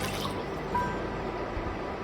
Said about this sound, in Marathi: आता आपण पाणी टाकून घेऊया